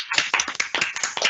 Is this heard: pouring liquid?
no